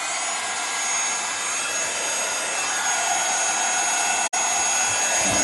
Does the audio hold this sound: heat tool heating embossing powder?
yes